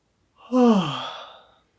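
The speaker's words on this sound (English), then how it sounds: "Or you can even try a fake yawn to trigger that response." A deliberately faked yawn rises into a drawn-out voiced exhale with a falling pitch, heard close and alone, and fades out after about a second.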